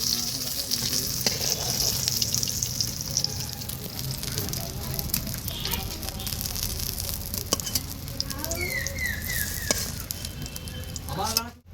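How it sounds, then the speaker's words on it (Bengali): Sliced vegetables sizzle continuously in hot oil in a home kitchen, a dense crackling frying bed with occasional clinks of a utensil as pieces are lifted out; faint talk at times. "কটনগুলো ভেজে নিয়েছি এবার আমি তুলে নিচ্ছি"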